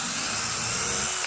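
Steady high-pitched whine of a small drill boring a little hole in a DIY mouse trap, continuous and even for just over a second.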